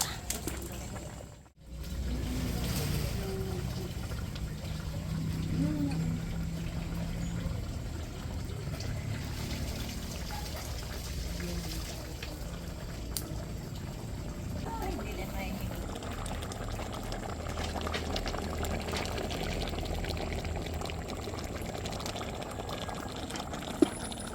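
Nipa palm vinegar is poured into a pot of lechon paksiw and left to boil, giving a steady bubbling and liquid hiss, with a voice talking over it.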